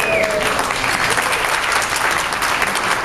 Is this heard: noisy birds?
no